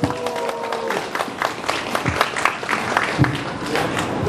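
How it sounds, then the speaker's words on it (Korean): Rally audience in Daegu clapping, a dense burst of applause from a crowd with some voices mixed in, close and fairly loud throughout. "우리 유엔을 위해서 실탄 박수를 부탁드립니다"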